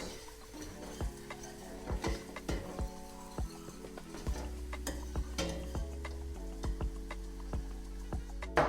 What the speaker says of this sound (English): You have to stir so that it doesn't get burnt